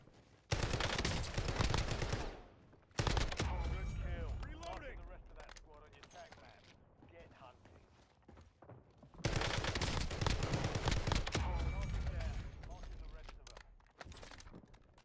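Shotgun gunfire in a video game: loud blasts open and return in heavy bursts, separated by a quieter stretch of mechanical clatter and small impacts.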